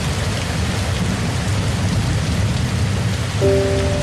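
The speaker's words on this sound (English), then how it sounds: "The rain continues to fall." Steady, dense rain pours at night over rainforest mountains in Costa Rica, a continuous close hiss, with a brief tonal hum entering near the end.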